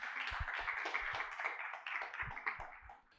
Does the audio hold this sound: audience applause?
yes